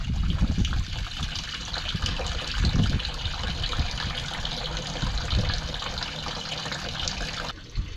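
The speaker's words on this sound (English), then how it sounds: "But here is our initial first water coming in." Steady rushing water from a garden hose pours continuously into a micro septic tank for several seconds, a dense broadband gush that cuts off abruptly near the end.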